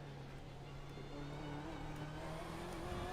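Ford race car in iRacing at the 24 Hours of Le Mans, engine pitch climbing gradually under acceleration, a steady rough drone at moderate volume.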